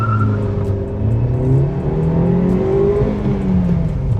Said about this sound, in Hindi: raving till 5000 RPM,